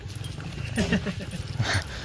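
A dog gives a few short barks and whimpering yelps at moderate distance, mixed with low growly sounds and a faint background hiss.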